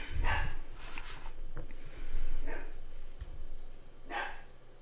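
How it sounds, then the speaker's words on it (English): A dog barks several times in scattered bursts, sounding somewhat distant and slightly muffled against a noisy indoor background. "your dog's barking."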